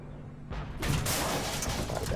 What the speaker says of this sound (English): Managed to get a shot underneath them with high explosives.